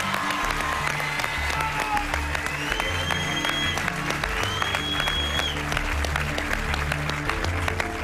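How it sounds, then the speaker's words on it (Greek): Audience applause at a Greek Survivor television production event, steady and dense for the full stretch, with a few faint voices and whistles mixed in above the clapping. "να το χειροκροτήσουμε"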